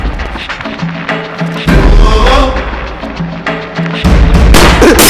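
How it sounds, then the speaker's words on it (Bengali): Gunshots in a dramatic movie scene ring out as two heavy booms over a tense, loud music score, each blast followed by a rumbling tail. "গুলির আওয়াজ শুনে"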